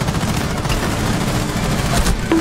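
Dense, continuous gunfire in a Rainbow Six match, with rapid overlapping shots that sound loud and close throughout.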